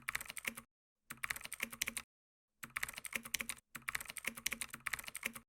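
Rapid keystrokes clatter on a computer keyboard during data entry, arriving in four quick bursts separated by short silent pauses, close and fairly quiet.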